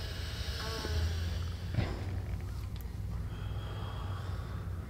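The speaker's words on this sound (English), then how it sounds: "Just breathe in your nose." A patient with sciatica from a bulging disc, lying on a chiropractic table, draws a soft, close snorting breath in through the nose, followed by quieter breathing and faint room noise.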